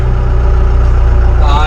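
A big farm tractor's engine labors while hauling a heavy load with no rear counterweight, a loud, deep, steady rumble that stays constant throughout.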